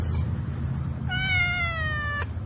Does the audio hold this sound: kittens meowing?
yes